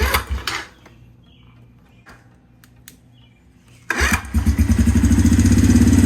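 A Suzuki Quadsport Z90 four-stroke ATV, freshly tuned with a cleaned carburetor, gives a short sputter, falls quiet for a few seconds, then catches and roars into a loud, steady, close idle.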